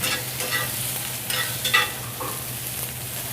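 Tofu and vegetables sizzle in oil in a pan that is not yet very hot, a soft steady frying hiss with scattered small pops and a few stirring scrapes.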